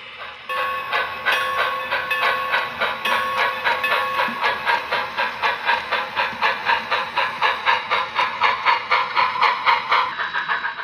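A small steam-style HO scale model train chuffs with a steady hiss and rhythmic clicking that speeds up as it pulls away, whistle tones ringing above.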